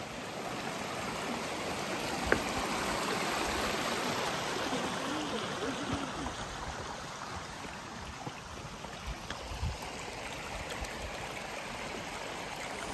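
A steady rush of a waterfall and flowing stream along the Appalachian Trail in the 100-mile wilderness, a constant broadband wash of water heard close and unbroken, with no talking.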